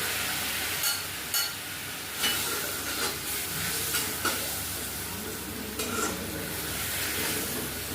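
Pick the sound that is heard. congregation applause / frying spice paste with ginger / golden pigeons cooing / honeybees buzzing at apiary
frying spice paste with ginger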